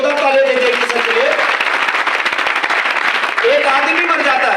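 Audience applause for a speaker at a mi lifestyle Marketing business seminar in Kandivali, a loud, dense burst of clapping lasting throughout, with a voice speaking over it near the start and end.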